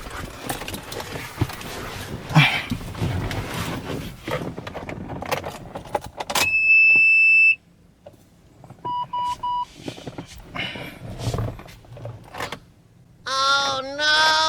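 Keys jangle and dashboard chimes beep while a Toyota Fortuner with a weak battery fails to start, giving scattered clicks and no engine catching, with a voice reacting briefly near the end.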